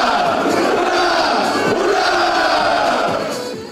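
A hall full of soldiers after a concert roars a massed hurrah in unison, loud crowd shouts rising and falling across a few seconds before easing off.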